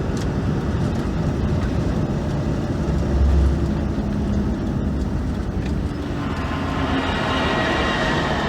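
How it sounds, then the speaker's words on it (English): A truck speeds past at high speed on an open road, a broad steady roar with a brief swell as it goes by, then settling into continuous road and engine rumble. "We've got a truck going past at 100 miles an hour."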